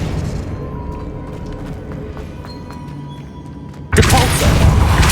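A spell impact from the Expelliarmus disarming charm in the Hogwarts Legacy video game erupts as a sudden loud, broad burst near the end, following a few seconds of quieter rumbling game ambience.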